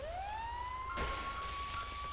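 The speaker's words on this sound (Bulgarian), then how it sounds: "Да, решил е да използва пожарна." Fire truck siren from a car video game, a steady electronic wail rising then holding its pitch, moderately loud and alone, with a brief burst of noise partway through.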